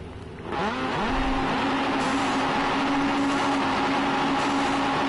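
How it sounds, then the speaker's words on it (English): Race car engines revving up together at the start of a race at Oschersleben, a loud rising roar that settles into a sustained high engine drone, close by. "Revving the engines, and off they go"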